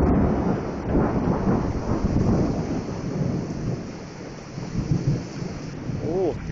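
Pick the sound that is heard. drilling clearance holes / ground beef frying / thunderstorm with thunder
thunderstorm with thunder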